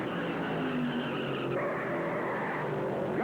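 Stock race cars spin out and skid on the track during the 1977 Southern 500, a dense, steady roar of engines and tire scrub that stays loud and unbroken throughout.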